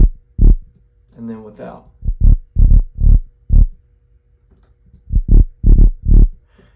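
Deep Serum synthesizer bass notes, played with and without a warming trick, land as short punchy low pulses in two rhythmic groups, with a brief spoken phrase between them.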